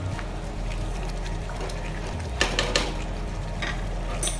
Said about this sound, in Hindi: 2-3 मिनट भूजेंगे इसको